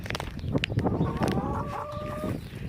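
Backyard hens clucking and calling close by, with a drawn-out squawk in the middle, while someone talks softly over them.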